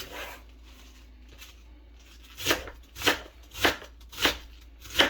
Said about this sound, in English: Hope you can see this cutting the cabbage.